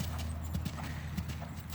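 Young horse Bentley's hooves clip-clop in a steady, slowing rhythm as he drops from canter to walk during a riding lesson, heard over a constant low hum.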